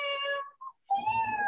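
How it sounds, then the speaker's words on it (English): A cat gives two quiet, thin meows separated by a short pause and a tiny chirp, close and alone with no talk. "a very quiet cat"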